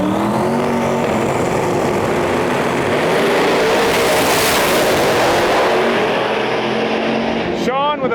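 A Pro Mod drag race car making a qualifying run at the World Series of Pro Mod, a loud, sustained roar that swells in the middle, with an announcer talking over it.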